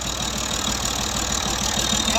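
A 1989 Italian-model Fiat 480 single-lever tractor engine runs steadily in Pakistan, a loud, close, continuous rumbling idle with no one talking.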